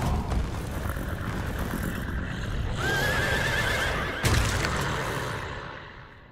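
In a video game, a horse whinnies loudly in a long, wavering neigh over steady hoofbeats and rumbling, followed by a sharp thud before fading out.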